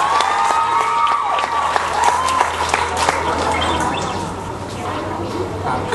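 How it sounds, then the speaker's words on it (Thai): A crowd claps at a relaxed charity concert after a guitar song, with steady applause throughout and bright chirpy accents above it, fairly loud and close with no talking. "ขอเสียงปรบมือด้วยครับ"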